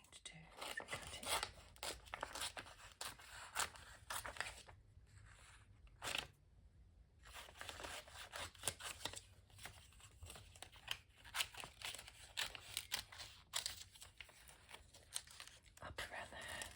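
Scissors snip and paper crinkles as a page of Elle magazine is cut out, quiet, close sounds in irregular bursts with a brief pause partway through and soft whispered talk.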